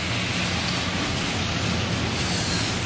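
Steady rain pours down in an even, unbroken hiss throughout, with no voices.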